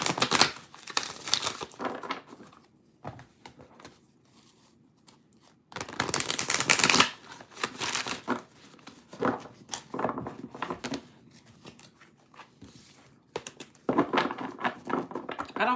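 A deck of cards being shuffled by hand at a tarot-style reading, bursts of riffling and crisp card flicks in several close rounds separated by quiet pauses, no voice.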